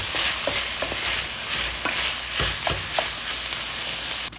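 Garlic sizzles steadily in a hot pan after onions, with a dense, close frying hiss broken by several light stirring scrapes and taps.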